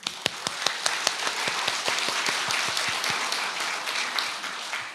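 Applause at a launch ceremony for a Korean lifelong-education coalition, a dense, steady wash of many hands clapping from a hall audience, with a few sharper nearby claps standing out throughout.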